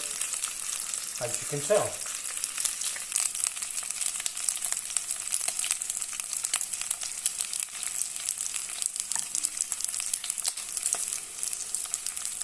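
Whole garlic cloves hitting hot oil in a pan and frying with a steady, close sizzle, plus a brief stirring clatter near the start and a few words spoken over it.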